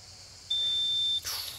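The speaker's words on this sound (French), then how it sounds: "D'autant plus qu'il y a le bip de la minute là qui a retenti." A single steady electronic timer beep marking the minute at a boules (pétanque) match, holding for under a second against faint outdoor background noise.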